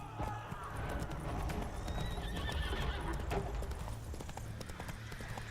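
Roach, the horse in The Witcher 3: Blood and Wine, trots with a rhythmic clip-clop of hooves that stays close and loud, alongside a whinny, game ambience and brief voice sounds.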